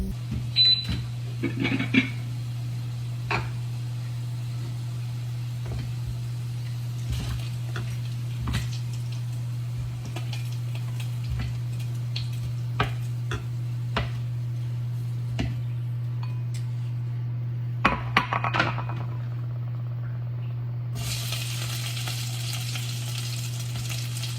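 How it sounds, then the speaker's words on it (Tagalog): Potato slices sizzle steadily in oil in a frying pan while chicken adobo is being cooked, with occasional utensil clicks and stirring scrapes over a constant low hum, and no talking. "We will fry this potato."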